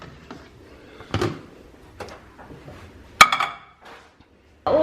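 Clinks and knocks sound as a dish for a homemade pizza goes into a microwave, with a sharp glassy tap near the middle and a thud as the door closes at the end, in a quiet kitchen.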